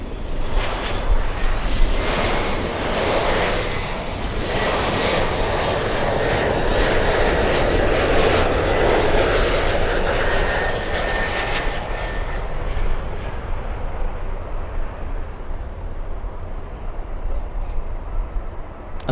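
A Lufthansa airliner lands at Miami International Airport, its jet engines roaring loudly and continuously as it passes close by, swelling and then slowly fading while the rumble persists.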